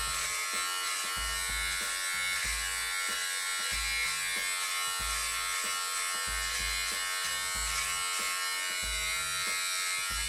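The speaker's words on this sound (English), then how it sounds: "Now I thought I'd film myself on YouTube shaving, not trimming my hair anyway." A BaByliss precision electric beard trimmer running steadily while shaving, a close, continuous buzzing drone with faint rhythmic pulsing as it moves across the skin.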